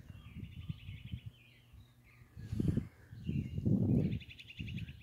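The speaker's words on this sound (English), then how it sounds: "All of those birds this morning." Birds chirp and trill faintly in the distance over a low outdoor rumble, with brief rustling in between.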